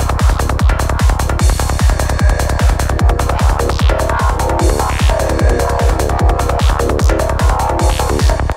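Forest darkpsy synth lead preset playing over a fast driving kick and rolling bass, dense and loud with a steady rapid pulse and swirling modulated tones throughout.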